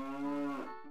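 A cow in the video game The Legend of Zelda: Ocarina of Time gives a single long, low moo that falls in pitch at the end, clear and alone.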